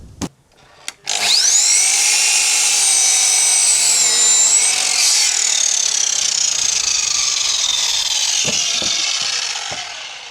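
SawStop jobsite table saw ripping through a wooden board, a loud close high-pitched whine of the blade that holds steady for several seconds before tapering as the cut ends, with a few knocks before and after.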